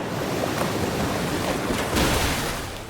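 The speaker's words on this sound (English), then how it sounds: "Big Muddy Water in the rain" Muddy Water move attack in the rain in the Pokémon Champions video game, a loud continuous rushing surge of water that swells near the end, with no talking.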